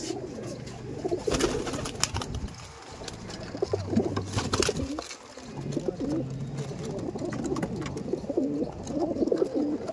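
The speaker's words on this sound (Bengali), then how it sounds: "আর এটা মাদি পায়রা, দেখুন" Andhra Madrasi pigeons in a loft cooing close by, with repeated low throaty coos overlapping in an irregular rhythm, and a few muffled knocks and rustles among them.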